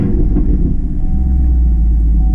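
Chevrolet Camaro SS 1LE with an MBRP axle-back exhaust on a warm start, a loud, deep, steady V8 idle rumble heard close from inside the car, with no talk.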